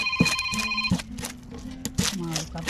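A phone rings with an incoming call at a roadside fish-cutting stall in Sri Lanka: a brief, steady electronic tone in the first second, followed by people talking.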